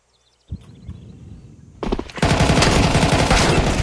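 In Counter-Strike 2 gameplay, after a few faint bursts, a loud rapid stream of automatic gunfire erupts and continues densely, close and harsh.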